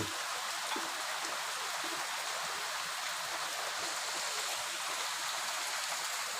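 Steady rain pours down at a Buddhist temple in Lampang, Thailand, a dense continuous hiss of falling water without pause and no voices.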